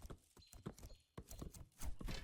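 Cavalry horses galloping in the strategy game 0 A.D., a quick, uneven patter of hoofbeats with clattering impacts, moderately close and without speech.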